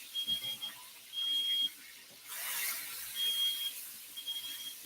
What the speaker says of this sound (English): You ain't cooking unless you're setting the smoke alarm off.